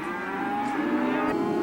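Cattle at a livestock saleyard give a long, loud, steady moo lasting over a second, close and alone without any talk.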